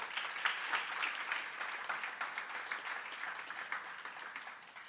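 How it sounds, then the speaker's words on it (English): Steady applause from an audience at a 2016 student government induction ceremony, greeting an inductee; dense, even clapping throughout with no voices. "Give him a round of applause."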